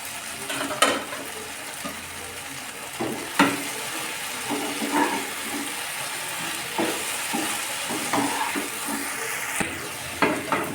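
Okra (ladies finger) fries in a pan with a steady sizzle, broken by scattered clicks and scrapes of stirring; no one speaks.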